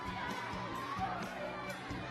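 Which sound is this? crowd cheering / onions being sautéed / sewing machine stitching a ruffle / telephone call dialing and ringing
crowd cheering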